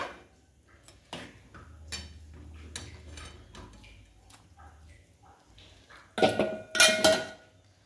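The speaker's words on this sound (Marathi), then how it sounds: "आता हे सगळं आहे का मी एका पातेल्यात काढून घेणार आहे" Cooked chicken curry being scooped from a kadhai into a cooking pot: scattered metal clinks and scrapes, then a louder clatter near the end, with a voice speaking faintly in the background.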